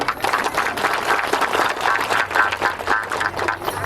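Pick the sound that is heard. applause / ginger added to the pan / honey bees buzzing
applause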